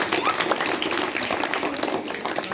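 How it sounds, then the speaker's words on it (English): Audience applause at a school interview event, a steady patter of many hands clapping at moderate volume, continuing throughout. "So, shall we give Richard a big clap?"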